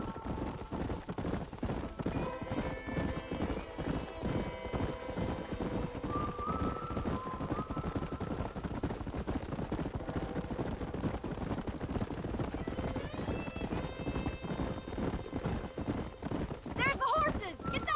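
Hooves clatter in a rapid galloping rhythm, steady and fairly loud, with game music and ambience layered underneath, in Red Dead Redemption.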